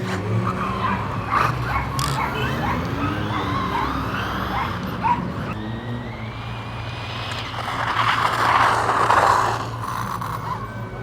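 A Rlaarlo AM-D12 RC car on a high-voltage battery pulls away from a standing start, its electric motor whining upward in pitch while the tires scrub and skid, building to a loud surge near the end.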